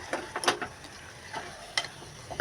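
Mutton pieces coated in red chilli powder and masala sizzle in a pan over a medium-high flame, with a run of short, quiet scraping stirs coming in irregular bursts over a low, steady frying hiss.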